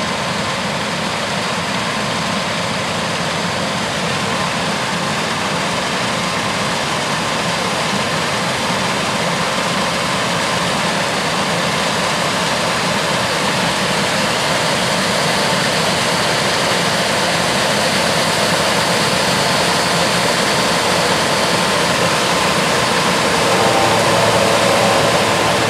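A New Holland CR8090 twin rotor combine harvests soybeans, its engine and threshing machinery giving a loud, steady broadband roar with a constant hum that carries on without a break, no voices present.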